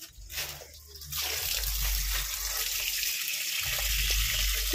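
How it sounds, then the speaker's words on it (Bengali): Chicken leg pieces are washed under running tap water, a steady close splash and stream that starts after a brief pause and continues to the end, moderately quiet. "দেখো আমি ভালোভাবে ধুয়ে নিচ্ছি সব লেগ পিস"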